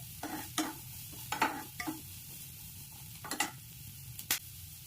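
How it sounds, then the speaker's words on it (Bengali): Chopped onions being stirred in butter for a chicken stew, a faint, low sizzle under intermittent scraping strokes of a spoon across the pan, with a couple of light clinks. No one speaks. "এবার পেঁয়াজ কুচিগুলো দিয়ে দিলাম, নিয়ে ভালো করে নেড়ে নেব।"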